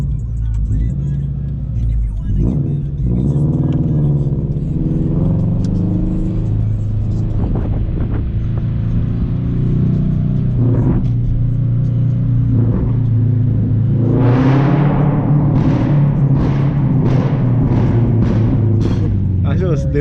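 A Subaru BRZ running on E85 fuel drones and rumbles while driving, then revs up in a series of rising surges near the end, loud from inside the car, with people talking over it.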